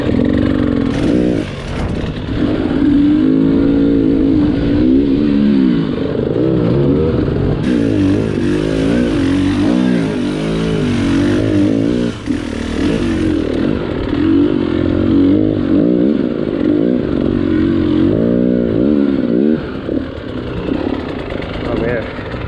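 Enduro motorcycle engine running close by on a steep side hill, its loud rumble rising and falling in uneven revs over a steady idle with some mechanical clatter, and a voice speaking over it.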